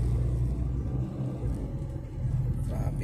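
Road traffic on Kalayaan Bridge in BGC, a continuous heavy low rumble of passing vehicles heard up close, steady with slight swells.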